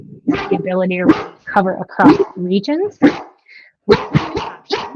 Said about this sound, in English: I apologize if you can hear my dogs barking.